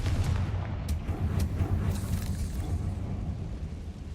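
A Confringo fire spell from the video game Hogwarts Legacy bursts in a dense, continuous blast, with a loud low rumble and sharp crackling pops running steadily through the whole stretch, no voices over it.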